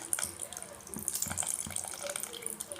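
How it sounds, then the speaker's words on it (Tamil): Tamarind water is poured into a pot of boiling sambar in an uneven splashing stream with gurgles and small splashes, close by and moderately loud, without any voices. "அந்த புளி தண்ணியை தான் இப்போ ஊற்றுறேன்"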